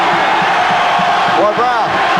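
A packed college basketball arena crowd at a Duke versus Miami game roars loudly and continuously, screaming for defense with fans on their feet, a dense wall of cheering with brief shouts rising near the end.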